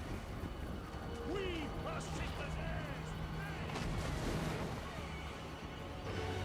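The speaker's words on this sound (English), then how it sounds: "they're getting blasted by cannonballs" Cannon towers firing in the fantasy strategy game Total War: Warhammer 3, repeated booming blasts and crashes over battle clamor, with a voice talking throughout.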